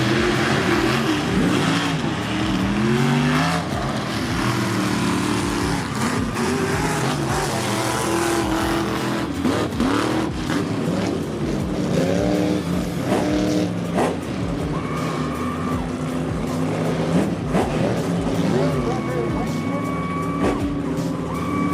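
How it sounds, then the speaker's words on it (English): Fast racing trucks roaring around a slick track, engines revving and accelerating continuously and loudly, with passing and shifting tones over the whole stretch and some talk underneath. "There's some fast trucks here."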